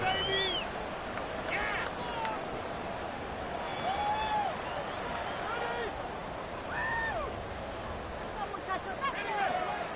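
Stadium crowd cheering in a Madden football game, a steady roar of fans and whistles running under a commentator's voice.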